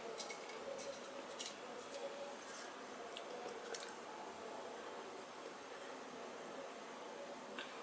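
Soya chaap dough is pressed by hand onto sticks in a home kitchen, making quiet, soft squishing sounds with a few scattered sticky clicks. There are no voices.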